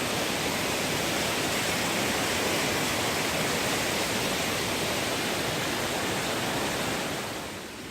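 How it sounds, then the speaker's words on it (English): Rock Run creek at high water roars with a loud, steady rush of water, close and continuous, fading only slightly at the very end. "can see just how much water is coming through Rock Run right now. It's pretty incredible, and it's impressive how loud this all is."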